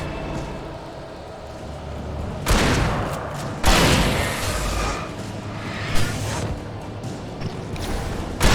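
In Alan Wake, a pump-action shotgun fires a few heavy, booming blasts at irregular intervals, each with a long rumbling tail, against quieter background noise.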